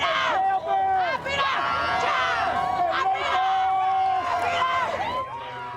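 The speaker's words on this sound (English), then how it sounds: "Cheers and jeers as the crowd gathered to see the former president returning from his trial" Outdoor crowd outside Trump Tower in Manhattan cheering and jeering as the former president returns from his trial, a continuous loud mix of shouts, whistles and babble with overlapping voices throughout.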